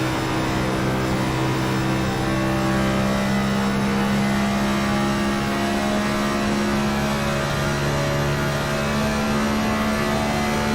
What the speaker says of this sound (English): Sounds like he's either clutching it or flicking his engine on and off going into the entry